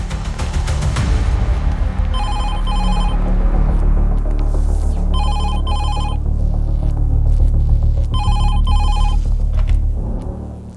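A telephone rings in three repeated double bursts of trilling bells, over a loud low hum and rumble that continues throughout.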